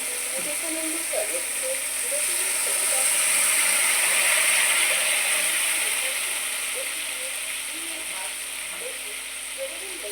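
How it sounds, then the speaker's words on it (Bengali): Water goes into sizzling masala for a fish curry, a broad steady hiss that swells and then eases, with faint clicks and voices murmuring underneath. "এর মধ্যে দিয়ে দেবো জল, দিচ্ছি জল"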